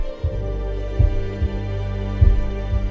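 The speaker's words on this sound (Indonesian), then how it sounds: "Raizo dan Kiriko mampu saling mendengarkan detak jantung mereka yang saling seirama" Two heartbeats pulse together in a film scene, deep muffled thuds landing in steady paired beats over a low droning hum, with no voices.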